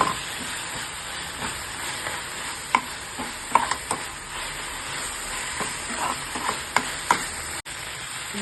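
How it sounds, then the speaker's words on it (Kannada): Ginger garlic paste fries in a pan for methi paratha chutney with a quiet continuous hiss and occasional small taps and scrapes of a spoon stirring, close by and without speech. "ಇದು ಹಸಿ ವಾಸನೆ ಹೋಗೋವರೆಗೂ ಹುರ್ಕೊಳ್ಳೋಣ."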